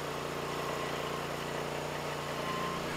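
The 23 HP Briggs & Stratton engine on a Lumbermate Pro MX34 portable sawmill runs at a steady, even hum with constant low vibration and no talk.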